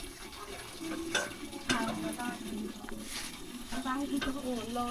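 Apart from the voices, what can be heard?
villagers scooping water to drink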